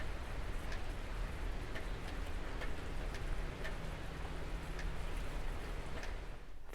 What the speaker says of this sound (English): No direct sunlight today because it is a little overcast and it is raining